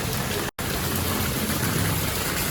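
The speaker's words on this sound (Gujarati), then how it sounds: "આવો ધોધમાર વરસાદ પડે છે મિત્રો" Heavy rain pours down on a street in Surat, a loud, constant broadband roar with no voices and a brief moment of silence near the start.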